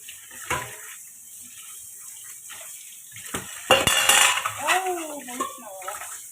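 Household dishes being washed at a sink: clattering pots and utensils under running water, building to louder clinks and splashes in the second half, with a brief rising squeak near the end.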